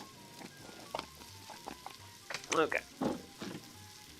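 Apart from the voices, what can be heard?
stirring food cooking in a pot over a campfire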